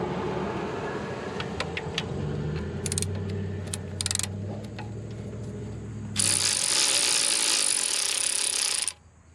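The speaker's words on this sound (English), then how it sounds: "we're going to use an electric ratchet" An electric ratchet with a 14 mm deep socket whirs in short buzzing bursts, then a loud continuous high-pitched hiss for about three seconds before cutting off, over low background rumble.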